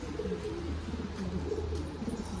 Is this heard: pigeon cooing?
yes